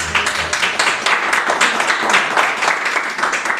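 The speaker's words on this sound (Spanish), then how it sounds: "Vamos a darle un fuerte aplauso a la palabra de Dios." A church congregation gives loud, close applause after a Bible reading, dense overlapping claps going on steadily for several seconds with no one speaking.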